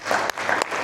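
Congregational applause for the Lord during a Spanish-language church sermon, a short burst of clapping that swells twice in under a second, fairly close and steady.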